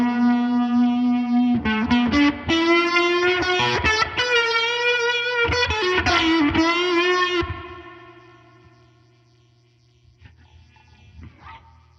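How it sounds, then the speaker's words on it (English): Electric guitar through a Boss RT-2 rotary pedal into a Princeton amp with spring reverb, several loud, swirling, slightly driven chords that fade into a reverberant tail, followed by faint handling noise. "See what it sounds like with some spring reverb from the Princeton."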